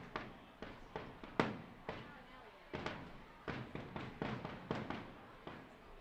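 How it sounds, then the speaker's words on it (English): A final salvo of fireworks bursts over the right-center field wall at a ballpark, a rapid series of sharp booms and crackles of varying loudness, heard from a distance under a crowd's murmur. "We get the, what I would believe is the final salvo of fireworks over the"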